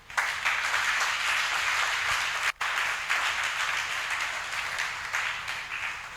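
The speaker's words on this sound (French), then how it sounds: "Donc acclamez le Seigneur." A church congregation at a Sunday service applauds to acclaim the Lord, a sustained wash of many hands clapping that breaks off for an instant, then resumes and slowly eases.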